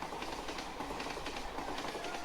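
A train travelling on rails, producing a continuous rumble with faint rhythmic clickety-clack, heard steadily and at a distance with no voices.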